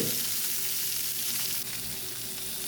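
Fish pieces fry in a pan with a loud, steady, close sizzle and crackle throughout, and no talking.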